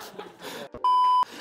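An alarm clock gives a single steady electronic beep lasting under half a second, loud and clear, set between stretches of conversational talk.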